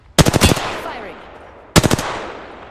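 Automatic weapon fire in the battle royale game Apex Legends: two loud, close bursts of rapid shots, the first longer and trailing into a fading echo, the second starting about a second and a half later.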